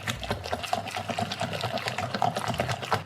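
A wet batter with a medium egg and unscented vegetable oil mixed in is stirred in a bowl, giving quick, rhythmic squelching and scraping strokes, close and fairly soft, with no voices.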